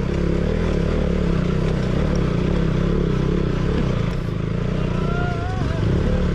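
A KTM Duke 200 motorcycle ridden over a rough mountain road in Nepal gives a continuous, dense engine drone, steady and close, heavy with wind buffeting and faint rattling throughout.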